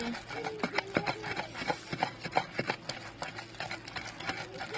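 Chillies for gongura chutney pounded in a stone mortar, repeated sharp thuds and grinding knocks in an irregular rhythm, close and moderately loud.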